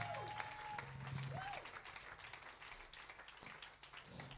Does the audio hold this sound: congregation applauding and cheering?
yes